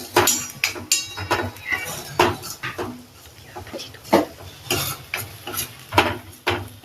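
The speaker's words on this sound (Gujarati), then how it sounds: "હવે એને બી આદુ લસણ મરચાંની પેસ્ટને બી આપણે થોડી સાંતળશું." Ginger, garlic and chili paste stirred in hot oil in a pan, with repeated scraping and clinking of a spoon against the pan over a soft sizzle, close and moderately loud.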